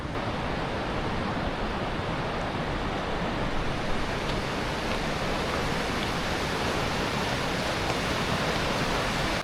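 A small river in the Swiss countryside rushes steadily nearby, a dense, even wash of flowing water that stays loud and unbroken with no voices.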